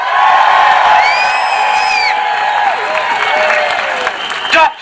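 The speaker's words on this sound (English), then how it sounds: "Give her a round of applause." Audience applause fills the room in a dense, steady wash of clapping, with a voice speaking over it and scattered cheers near the end.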